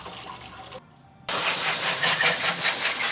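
Aerosol brake cleaner sprays in a long, loud continuous hiss onto a transmission pan from a 2015 Ford Expedition, after a softer hissing burst and a brief pause, with no talking.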